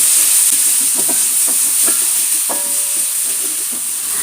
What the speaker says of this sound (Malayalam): ഇനി അതിലേക്ക് നമ്മൾ കുറച്ച് വെളുത്തുള്ളി ചതച്ചതും 2 പച്ചമുളക് അരിഞ്ഞതും ഇട്ട് കൊടുക്കുന്നുണ്ട്.